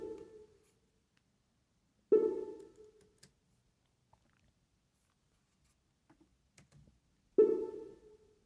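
Saturated, EQ'd synth bass preset played in a high octave: three short, punchy notes that decay quickly, separated by long gaps of near silence.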